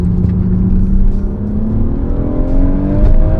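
BMW M140i with the B58 engine accelerating hard in second gear, a loud in-cabin engine note rising steadily in pitch as the revs climb.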